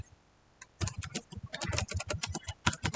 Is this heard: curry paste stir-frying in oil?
no